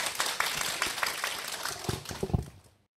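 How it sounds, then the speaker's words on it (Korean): A lecture audience applauds in a brief burst of many hands clapping at a talk for parents. The clapping is fairly faint and fades out after about three seconds. "박수로 한번 부탁드립니다."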